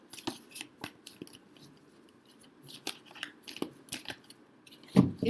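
Tarot cards shuffled by hand in a series of crisp, quiet riffles and taps at irregular spacing, close by, with a louder rustle near the end.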